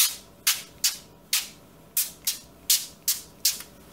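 Cooking oil sprays onto a foil-lined baking tray in about ten short, crisp hissing bursts at an uneven rhythm, close and clear with no talking.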